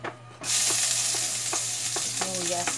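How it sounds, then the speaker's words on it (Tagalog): Onions sauté in a hot pan, a sudden loud sizzle that begins after a brief quiet and holds steady, with occasional stirring scrapes from a utensil. "Gigisahin ko muna yung sibuyas."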